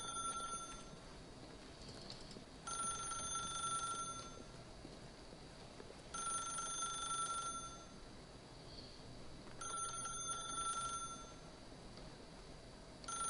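A telephone rings in The Stanley Parable video game, a faint electronic trill repeating in regular bursts roughly every three to four seconds against quiet ambient background.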